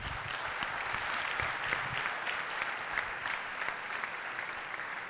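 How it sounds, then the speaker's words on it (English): Steady applause from a lecture audience at an identity masterclass, a dense, even patter of many hands clapping throughout with no talk over it. "a huge round of applause for him"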